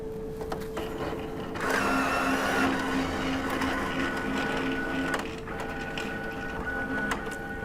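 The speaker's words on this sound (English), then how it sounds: "The printer will now pull the adhesive card in and run it through the length of the printer and up into the vertical option." A card printer draws an adhesive cleaning card through its length and up into the vertical option, giving a loud mechanical whir and grind for about three and a half seconds, followed by quieter motor running and a few clicks.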